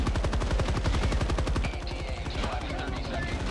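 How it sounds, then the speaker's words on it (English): A railgun in the Helldivers II video game fires loud, fast repeating shots in a dense, regular burst, close up, and the rhythm loosens toward the end, with no talking. "Shot his head off with the railgun."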